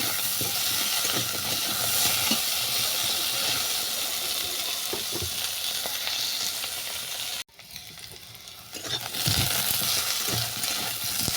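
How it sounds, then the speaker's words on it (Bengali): Potatoes and taro frying in oil in a pan for a fish curry, a steady, close sizzle with some stirring that briefly drops out near the end before resuming. "এই সবজিগুলোকেও ভালো করে ভেজে নিচ্ছি"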